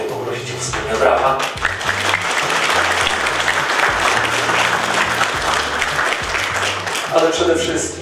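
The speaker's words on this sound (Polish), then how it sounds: "Czy mogę poprosić o wspólne brawa?" Steady audience applause fills a golden wedding anniversary ceremony for married couples in Biała Podlaska, a dense, even clapping that swells and holds for the whole stretch with low background murmur beneath.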